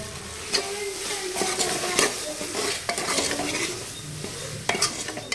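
Onions and tomatoes fry with pav bhaji masala in a pan, a steady close sizzle broken by repeated scraping stirs of a spoon against the pan.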